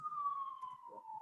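Siren wailing on a New York street, a steady descending tone that holds clearly for the whole moment, fairly close, with low traffic rumble beneath.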